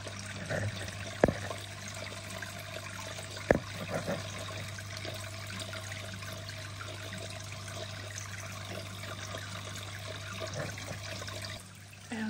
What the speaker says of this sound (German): Schauen wir mal, wann das Wasser kommt.